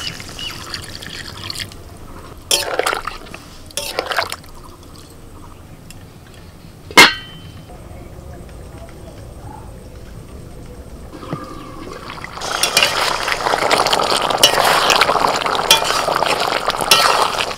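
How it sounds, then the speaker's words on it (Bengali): Water going into a pan of potato and pointed gourd fried with spices: a few sharp clinks and drips first, then a loud, sustained rushing pour over the last several seconds, no talking. "মশলার সাথে আলু আর পটলটাকে কষিয়ে নিয়ে জল দিয়ে দিচ্ছি"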